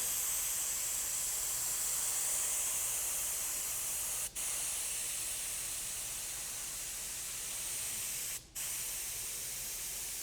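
An airbrush spraying patina paint gives a loud, steady, close hiss that runs almost continuously. Two brief cutoffs break it where the trigger is released for a moment.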